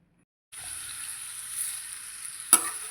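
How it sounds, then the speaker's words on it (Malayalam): Thinly sliced big onion frying in hot oil, a steady bright sizzle that starts abruptly and holds throughout, with a brief louder crackle near the end. "നമുക്ക് എണ്ണയിലിട്ട് നന്നായിട്ടൊന്ന് പൊരിച്ചെടുക്കണം."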